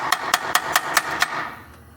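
A rubber mallet strikes a Jeep valve cover six times in a quick, even series of sharp close thuds, followed by a brief quiet tail.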